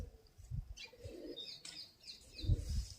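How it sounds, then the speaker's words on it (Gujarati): Birds fly in to feed on scattered grain, with soft wing flaps, light chirps and low coos coming in quiet, uneven bursts close by. "દરરોજ પક્ષીઓ ખાવા માટે આવી જાય છે."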